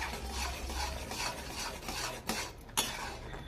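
Stirring cooked mango dal in a pot, a steady scraping, rubbing rasp of a spoon against the pot with a couple of sharper knocks near the end, close and moderately quiet, with no talking.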